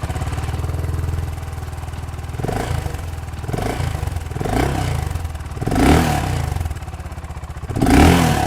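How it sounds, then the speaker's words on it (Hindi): A BSA Goldstar 650 motorcycle rumbles with a deep, throaty single-cylinder exhaust, idling steadily before several sharp throttle blips rise and fall, the last two loudest and close by. "थ्रोटी एग्जॉस्ट नोट है इसका, आइडल पे ही नहीं बल्कि जब आप इसे राइड कर रहे हो"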